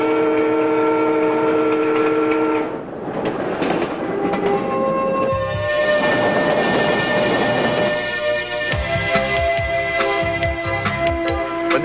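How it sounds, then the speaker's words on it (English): Pendolino tilting train heard from the cab at high speed, with a loud continuous rumble and whine, shifting tonal hums, and rhythmic clatter from the rails throughout. "in the cab of the pendolino, you really get a sense of its speed and amazing tilting ability"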